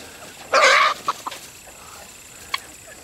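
A chicken scratching in the dirt outdoors lets out a short burst of clucking, followed by a few softer clucks and a brief chirp against a quiet background.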